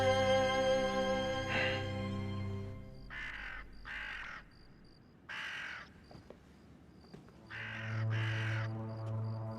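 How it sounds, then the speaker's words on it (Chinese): Several crows caw at night outside, harsh repeated calls in short bursts with gaps between, fairly close and clear over a low background hum, with no talk. "我正在听这些乌鸦"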